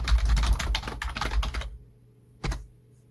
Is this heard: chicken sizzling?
no